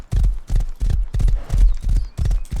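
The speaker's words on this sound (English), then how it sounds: "It'll take me only a minute to get here via horse." A thoroughbred horse wearing high-quality horseshoes gallops in the video game Rust, its hooves striking in a quick, even clip-clop rhythm of about ten loud, close beats with no talk.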